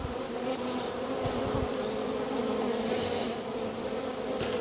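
Honey bees hum at an open hive in an apiary during a brood check, a dense steady buzz of many insects close by with small handling knocks and no talking.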